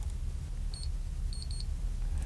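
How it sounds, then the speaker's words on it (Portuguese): A Daruma printer beeps in a quiet room: one short high beep, then a quick run of four beeps, crisp against a low background hum. "Ela bipa pra gente e dá um retorno aqui"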